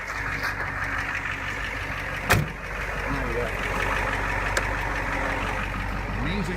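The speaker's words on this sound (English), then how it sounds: "Amazing old 92 Ford diesel." An old 1992 Ford diesel truck engine idles with a steady low rumble and faint knock, a brief sharp clunk midway, continuing evenly throughout.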